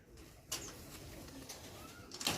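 Favourite fancy pigeons with purple feet coo steadily in a loft, a soft continuous rolling murmur broken by a few brief rustles and clicks.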